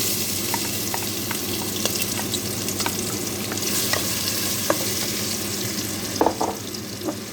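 Chopped onion fries in a pan with a steady, dense sizzle, broken by scattered clicks and a few scrapes from stirring, close and even throughout with no talking.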